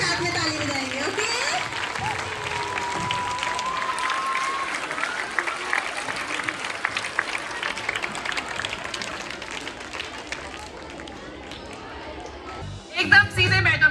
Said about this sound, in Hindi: हाथ ऊपर करके अब हम सभी साथ में ताली बजाएंगे